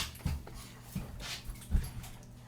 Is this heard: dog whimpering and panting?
yes